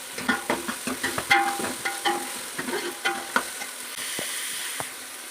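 Tomato fries with salt in a pan, giving a soft sizzle broken by repeated scraping stir strokes in an uneven rhythm, close and fairly quiet, with no talk.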